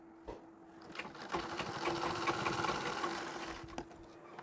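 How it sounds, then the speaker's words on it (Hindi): A sewing machine runs steadily for a few seconds, stitching the pleats of a Marathi-style saree. The whirring motor is close and fairly quiet, with no talking over it. "यहाँ पर भी हमें सिलाई लगा लेनी है।"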